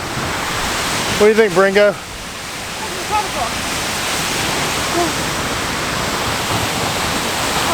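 A large waterfall rushes in a constant, full broadband roar. A man briefly asks a question near the start before the water noise carries on alone.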